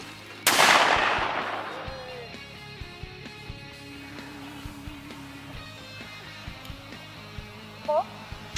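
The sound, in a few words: shotgun firing at clay target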